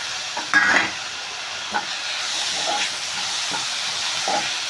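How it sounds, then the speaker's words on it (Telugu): Tomatoes frying in oil for egg burji in a pan, a continuous hissing sizzle with a couple of brief louder spits and light utensil knocks, no voices. "ఈ టమాటాలు కూడా ఆయిల్లో ఫ్రై కావాలి."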